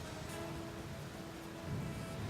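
Steady rain hisses loudly with a low rumble of thunder building toward the end, a dense continuous thunderstorm with no voices.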